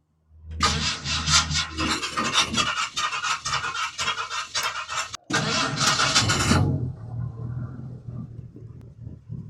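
A 1964 Ford F100 truck with a 4.6 engine cranks loudly for several seconds, pauses briefly, then cranks again and fires. It revs hard for a moment before settling to a quiet, low idle.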